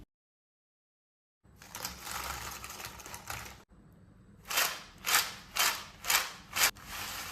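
Crispy fried potato chips handled and snapped apart by hand, giving a burst of dry rustling followed by about five sharp, close crunchy cracks in a steady rhythm, with no talking.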